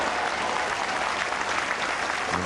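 Audience at a bowls final between Duncan and Shaw applauds, a steady, fairly close patter of clapping hands sustained throughout with no voices.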